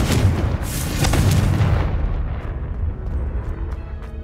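Fire spell explosion in the Hogwarts Legacy video game, a loud booming blast with a crackling burst that rumbles and slowly fades over several seconds.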